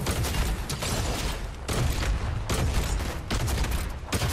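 Rapid bursts of gunfire crackle in the video game Fortnite, several loud volleys broken by short pauses, with no speech over them.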